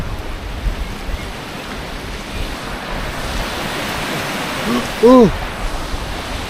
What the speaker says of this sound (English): it's a torrent